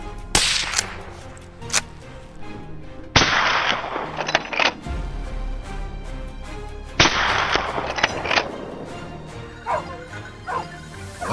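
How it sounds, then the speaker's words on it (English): Loud bursts of rapid gunfire crack in clusters while hunting wild boars, with sharp single reports between them and echoing tails, no voices. "The rapid gunshots echoed, swiftly taking down the lead boar."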